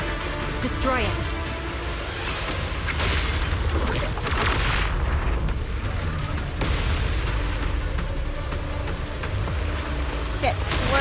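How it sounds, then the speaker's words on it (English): Dense explosions and gunfire-like booms in the video game Zenless Zone Zero, loud and continuous across the whole stretch with a steady rumbling low end and crackling bursts. "I forgot the explosions!"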